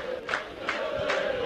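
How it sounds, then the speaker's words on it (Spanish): A football crowd in the stands at an Argentine second-division match, Almagro against Defensa y Justicia in 1998, chants and claps in a steady roar with rhythmic bursts. "Palmas en la platea, el aliento que baja de la popular."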